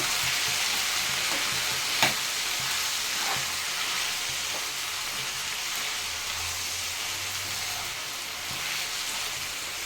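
Tomato gojju fries in oil with a loud, continuous, close sizzle like heavy rain, steady throughout with occasional faint pops and stirring scrapes.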